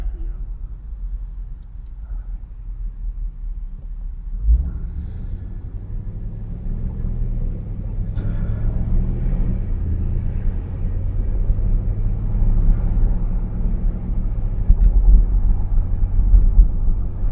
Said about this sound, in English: It's got a rev limiter on it, so he won't blow it.